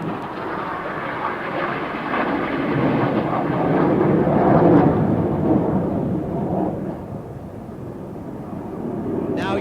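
Red Arrows display jets rolling out for the Cyclone manoeuvre at the Eastbourne International Airshow, a loud, broad jet roar swelling toward the middle and then easing, heard from the crowd line.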